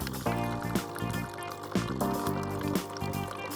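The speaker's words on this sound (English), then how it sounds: "Lumio will start rinsing for another 30 seconds." Water runs steadily through a NESCAFÉ Dolce Gusto Lumio coffee machine during its rinse cycle, a continuous liquid flow heard over a tonal musical background throughout.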